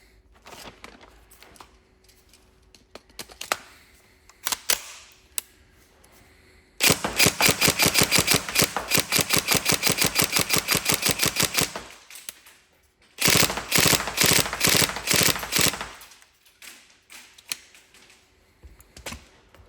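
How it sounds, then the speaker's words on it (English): A Tokyo Marui MP5A4 Next Gen airsoft electric gun fired in two long full-auto bursts, a loud, rapid mechanical rattle of evenly spaced shots, preceded by scattered clicks and handling noises, with a short pause between the bursts. "we're just going to test it shooting now, just demonstrate it working"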